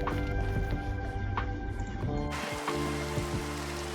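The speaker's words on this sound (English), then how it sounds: "That rain and everything." Steady video game rain hisses and patters across the whole stretch with soft drips, thickening into a denser downpour partway through, and a faint low ambient hum sits underneath.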